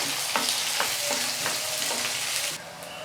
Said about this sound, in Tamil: இப்போது இதில் நம்ம வெங்காயம் சேர்த்துடலாம். மீடியம் சைஸில் 2 பெரிய வெங்காயம். போட்டுட்டு இதை நல்லா வதக்கிட்டுக்கலாம்.